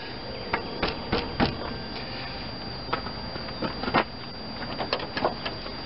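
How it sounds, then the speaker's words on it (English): A wrench works a 15 mm tensioner bolt on the engine of a 1993 GM S10 pickup with a 4.3 V6 during an alternator, tensioner and idler job. Sharp metallic clicks and knocks come in irregular bursts, close by and with no talking. "get over here on the tensioner bolt, 15 mil"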